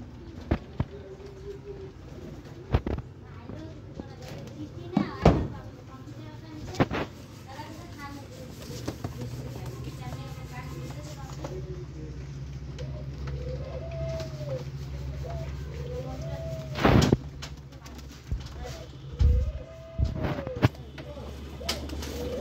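Pigeons coo in repeated soft, rolling calls inside a pigeon house, with nearby wing flaps and thumps and occasional voices talking in the background.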